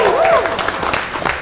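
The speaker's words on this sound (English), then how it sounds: "can we have a very big round of applause for all of you?" Audience applause at the Oppo roast show event, a brief burst of clapping from the crowd with a voice briefly heard over the start, loud and close.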